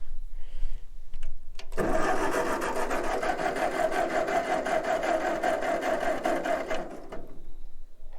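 A small engine cranks with the choke half on, a steady rapid chugging lasting about five seconds without catching, close and loud, framed by quieter handling noises before and after.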